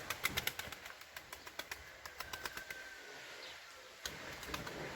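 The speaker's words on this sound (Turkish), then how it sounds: "Bakın kuşlar ne güzel uçuyor." Soft flapping wingbeats and faint pigeon sounds from a flock of flying pigeons come in a quick run of light pulses, quiet and somewhat distant, with no talking.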